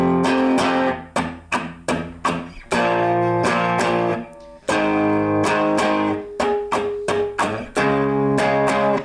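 An electric guitar strums the chords of a song slowly and loudly, distorted chord hits ringing out in a steady rhythm with short choked gaps between strokes.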